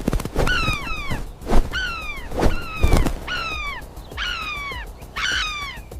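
Harsh, repeated alarm calls from a woodpecker at its nest as a snake approaches, five or six loud descending cries in a steady series, close by.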